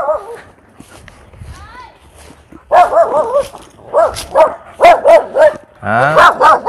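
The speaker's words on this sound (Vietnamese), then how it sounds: "Bây giờ chó sủa quá trời luôn anh chị" Several dogs bark loudly in repeated bursts near a rural house on a coconut-garden plot in Vietnam, with yips and a rising whine, while a voice talks between and under the barking.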